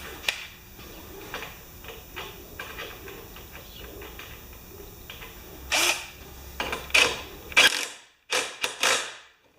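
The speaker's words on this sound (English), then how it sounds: "Let's just put the bolt on, because sometimes the bolt rubs when you tighten them up." A bolt is tightened on the wheel of an old Yard Machines mower with a wrench, first a soft run of small ticking clicks, then a cluster of louder, close metallic ratcheting bursts near the end.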